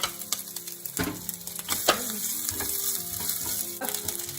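Shredded fresh turmeric and ginger fry in a pan for oats upma, a close, steady sizzle broken by several sharp stirring scrapes, with no voices.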